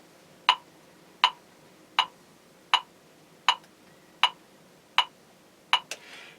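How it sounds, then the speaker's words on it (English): Metronome set to 80 beats per minute clicking evenly, slightly faster than once per second, with eight sharp, clear ticks alone in a quiet room, followed by a small extra knock at the end. "the metronome will click 80 times in a minute"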